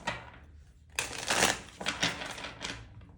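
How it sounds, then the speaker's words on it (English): Close, brisk riffling of tarot cards being shuffled, a soft papery rush that swells into a few louder bursts, with no talking. "So I'm going to get a couple more shuffles."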